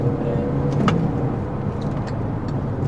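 A Volkswagen Saveiro Cross pickup engine pulling in third gear from about 2,000 rpm, with a steady, low, muffled drone heard from inside the cab and a faint tick partway through.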